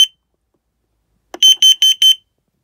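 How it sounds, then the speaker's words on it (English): A caravan carbon monoxide alarm gives a sharp single chirp, then after a pause sounds four loud, evenly spaced high-pitched beeps close by during a button test. "the test button is only there to test the sounder and circuitry and the battery system"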